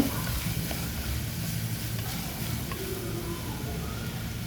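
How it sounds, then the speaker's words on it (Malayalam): Potatoes sauté in a pan with oil and salt for a vegetable curry: a low, steady frying hiss over a faint background hum, moderately close and fairly quiet. "നമുക്ക് ഉരുളക്കിഴങ്ങ് ഇട്ടെടുത്ത് നന്നായിട്ടൊന്ന് ഒരു മൂന്നാല് മിനിറ്റ് ഒന്ന് വഴിച്ചെടുക്കാം"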